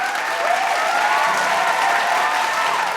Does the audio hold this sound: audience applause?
yes